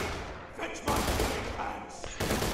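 Vladov sniper rifle firing in the video game Borderlands: The Pre-Sequel, with two heavy, booming gunshots close together whose echoing tails fill the short stretch between them.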